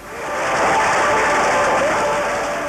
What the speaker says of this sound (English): You've got two leaders to the far right coming in through that door to a huge round of applause